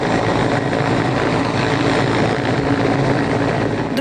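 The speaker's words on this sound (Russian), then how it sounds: "Воздушное судно зависает над водой." A rescue helicopter hovers over water, its rotor and engine making a loud, steady, broadband roar that holds unbroken and close throughout.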